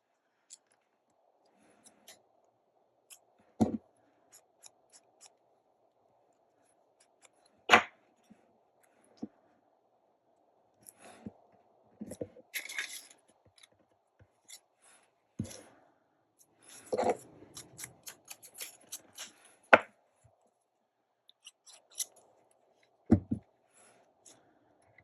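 Scissors trimming alcohol-ink junk journal tags, a handful of sharp, sparse snips and clicks spread across a quiet room with a faint steady hum underneath, no talk.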